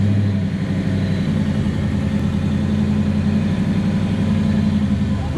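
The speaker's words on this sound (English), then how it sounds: "is the first test drive in the 66 Chevelle" Engine of a 1966 Chevelle drag car on its first test drive, a loud, steady low rumble with a constant drone from start to finish.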